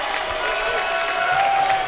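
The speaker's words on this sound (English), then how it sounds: "And the crowd loves it" Crowd at a Murray State men's basketball game cheering and applauding after a foul is drawn, a steady wash of clapping and voices filling the arena, moderately loud and sustained, with a commentator talking over it.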